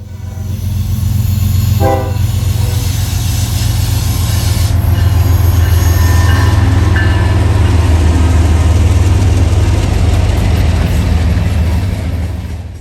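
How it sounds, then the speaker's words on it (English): Norfolk Southern train NS 171 rolls past westbound, a loud, close, continuous rumble of rail cars and wheels with a brief horn-like tone early on and steady grinding throughout. "We move over there to catch NS 171 heading westbound."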